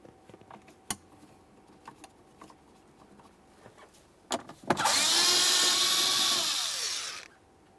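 A power driver backs out 7mm hex-head mounting screws under the glove compartment of a 2013-2020 Ford Fusion: a few faint clicks, then one loud, close whirring burst of about two and a half seconds that winds down.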